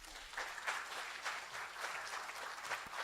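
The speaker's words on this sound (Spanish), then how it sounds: "Dale un fuerte aplauso al Señor." A church congregation claps together in sustained, steady applause, a dense wash of hand claps that stays fairly even throughout without voices rising above it.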